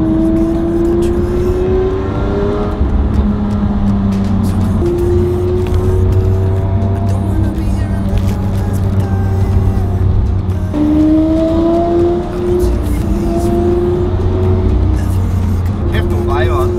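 Ferrari, Aston Martin and McLaren sports cars on an Alpine rally road between Innsbruck and Villach, engines droning and rising in pitch as they pass close by, with people talking over the steady motor sound.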